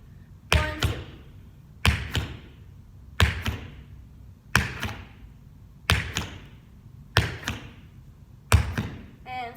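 Tap shoes work through beginner riffs, the ball of the foot digging into the floor and the heel pushing through, making seven crisp, evenly spaced strikes about a second and a half apart, loud and close in a quiet studio.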